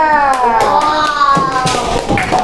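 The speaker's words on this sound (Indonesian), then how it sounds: "tepuk tangan untuk kelompok Karisa" Elementary students in a classroom during an Islamic religious education practice lesson in Yogyakarta clap in a quick, uneven patter for a presenting group, with children's chatter and voices running over the claps.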